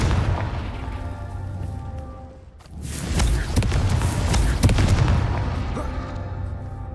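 A Confringo fire spell explodes in Hogwarts Legacy, a deep booming blast swelling after a brief lull and rumbling on with crackling debris, loud and close over game music.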